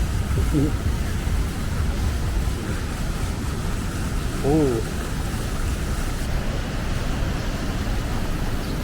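The rushing water of the Manavgat Waterfall roars as a dense, steady wash throughout, loud and close, with brief voices heard over it.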